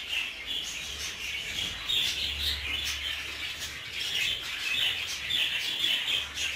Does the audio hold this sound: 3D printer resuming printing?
no